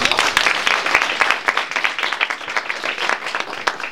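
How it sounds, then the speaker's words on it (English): Audience applause and clapping at the close of a community event, brisk and fairly near, continuing steadily for a few seconds without talk. "So please give her another round of applause"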